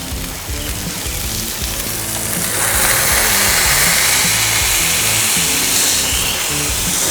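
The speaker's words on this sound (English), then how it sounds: "Now when I smash the middle, I don't smash it all the way." A smash burger patty on a Loco Cookers griddle gives a loud, steady, hissing sizzle that swells slightly partway through and holds continuously for about seven seconds, up close, with no talk.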